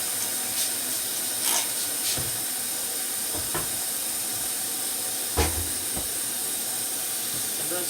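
Spray can hissing in short, close bursts into a pan of mustard-coated chicken wings in a home kitchen, separated by soft handling clatter and quiet gaps.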